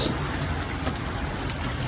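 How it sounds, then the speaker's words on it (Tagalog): Steady rain falls on a surface in a dense, even patter close by, with scattered louder drops and no voices. "Umuulan ngayon dito guys."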